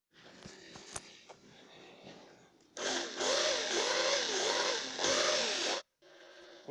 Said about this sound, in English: I'm lapping the valves with a drill.